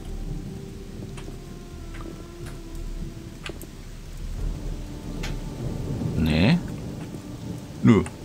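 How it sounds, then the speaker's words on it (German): Rain and thunder in the game ODYSSEE – Im Auftrag des Königs: a steady patter of rain with ticking drops, building to two loud thunder rumbles near the end, while someone talks intermittently. "Oh, jetzt regnet es auch noch"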